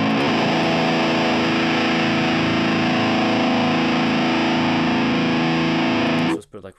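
Loud, thick distorted metal rhythm guitar from a Pod Farm amp simulator with boosted 1 kHz, grinding steadily without a break, dense and saturated, then cutting off abruptly just before the end.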